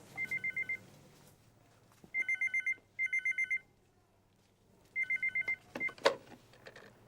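An indoor telephone rings in four clear bursts of rapid electronic trills separated by pauses, loud and close, with a brief clatter near the end.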